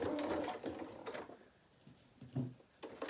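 A sewing machine stitches a toy cat's body, running forward and then backstitching in reverse in short close bursts with uneven stops.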